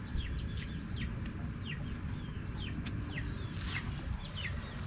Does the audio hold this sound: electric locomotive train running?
no